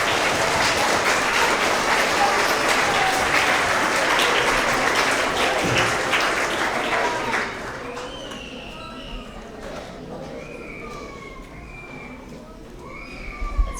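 Dense applause from a school assembly audience honoring 3rd to 5th grade Honesty Award winners, loud and steady for about seven seconds before dropping to scattered chatter and faint voices.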